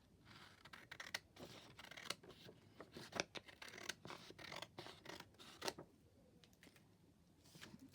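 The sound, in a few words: scissors trimming border off a paper postcard printable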